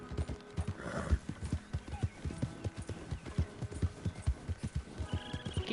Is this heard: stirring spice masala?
no